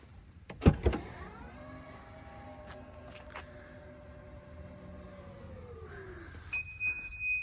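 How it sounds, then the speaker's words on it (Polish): A click and thump, then the powered tailgate motor of a 2015 Skoda Octavia RS hums steadily for several seconds before winding down, followed by a short electronic beep. "Samochód posiada elektryczną klapę."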